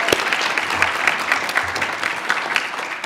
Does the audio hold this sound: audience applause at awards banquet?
yes